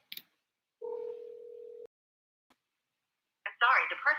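A phone dials *67 to block caller ID: a short keypress beep, then a steady tone lasting about a second, followed by silence before an automated voice starts talking.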